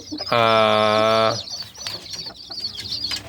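A single loud crowing call rings out briefly, followed by softer clucks and scattered chatter of day-old chicks close by in a tiered coop.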